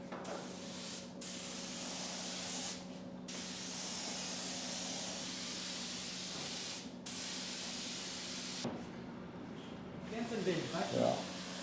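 Matte top coat sprayed from a can onto interior trim parts of a BMW E39 530i Touring, a steady close hiss in several long bursts separated by brief pauses, with faint rustling at the end.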